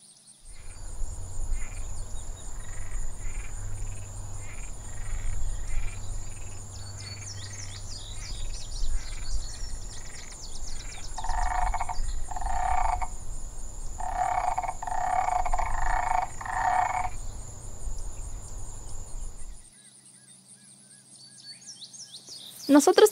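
Toads croaking in a natural setting, a dense rhythmic chorus of repeated calls with louder pulsed bursts midway and a high steady tone above, under faint background music before it drops away near the end.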